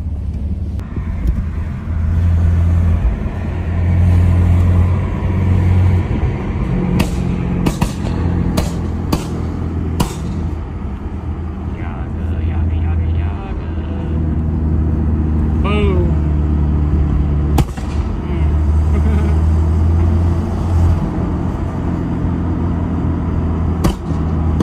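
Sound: BMW F80 car driving

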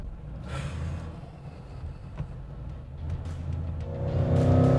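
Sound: supercharged Ford Mustang GT engine accelerating

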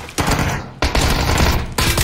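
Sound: Tommy gun gunfire in PUBG video game

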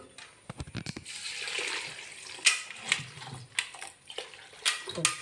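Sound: washing tapioca and chickpeas in water

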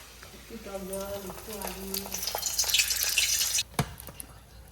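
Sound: frying batter in a pan

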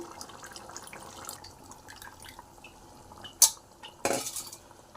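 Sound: stirring tamarind juice into mutton okra curry

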